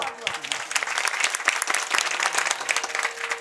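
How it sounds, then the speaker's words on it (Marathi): Loud, dense applause from a village crowd at a Ram Katha and Harinam week festival, steady and continuous throughout, with a voice speaking over it. "जरा जोरात टाळ्या वाजवा"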